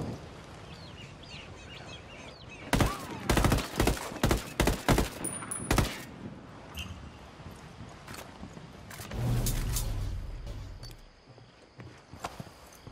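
Rapid gunfire bursts in a military shooter video game, a loud cluster of sharp shots followed by scattered single cracks and a rumbling blast amid ambient battlefield noise.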